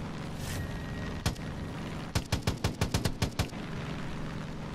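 Far Cry 5 gunfire: a single loud shot, then a rapid burst of about nine sharp reports in quick succession over a low ambient bed of game sound.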